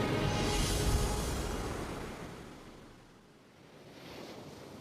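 Broad ocean surf washing in a steady roar, swelling loud at first, easing to a lull and then building again, with a breathy wind-like hiss over the whole stretch.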